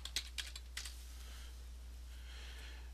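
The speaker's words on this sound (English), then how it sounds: "I'm going to type in" A handful of quick, light computer keyboard keystrokes close by, then quiet with faint background hiss.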